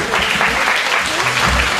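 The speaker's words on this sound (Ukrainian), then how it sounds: "Еще раз ваша аплодисменты семье" A hall audience claps steadily for a family receiving an award, a dense, close burst of applause that holds at an even level throughout.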